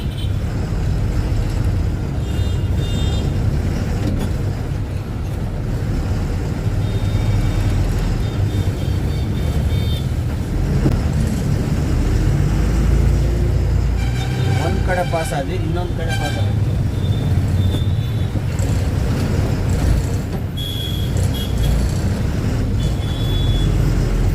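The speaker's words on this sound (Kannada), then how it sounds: "ನೋಡಿ ಆಲೆ ಕಂಟೈನರ್ ಗಾಡಿ ಎಲ್ಲ ಓಡಾಡ್ತಿದ್ದೆ" Heavy container trucks rumbling past in dense road traffic in Karnataka, with a continuous loud low drone, scattered horn toots, and someone talking over the noise throughout.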